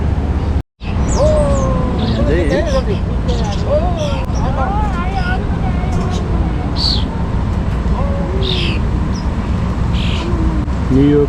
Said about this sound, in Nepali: न्युयोर्कको परेवा न्युयोर्कको भँगेरा